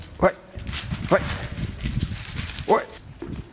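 A dog, not a hunting breed, gives three short yelping barks spaced about a second apart, fairly close, over steady background noise.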